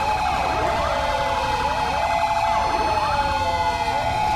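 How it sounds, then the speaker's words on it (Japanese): A loud wailing police siren in the video game GTA 5 sweeps up and down continuously, with several overlapping siren tones blaring close by. "めっちゃサイレンがでかい。"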